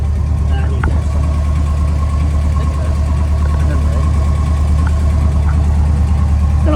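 A 1968 Chevy Longhorn pickup with a 327 V8 and single newer exhaust through a big muffler idles steadily and loudly up close, a deep even rumble with faint ticks on top.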